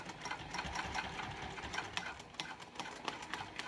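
Sewing machine stitching slowly through thick layered cork on a clutch wallet, a steady close mechanical whirr with rhythmic needle knocks running continuously.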